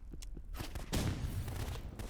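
Gunfire in the Roblox game Rivals crackles in a dense burst of rapid shots, loud and close, after a few scattered lighter pops.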